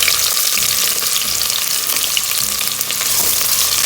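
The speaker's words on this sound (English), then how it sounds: "I am going to add half the quantity of red onion for frying" Red onions sizzle and crackle steadily while frying golden brown in a hot pan, a dense hiss with occasional stirring scrapes, close by and with no talking.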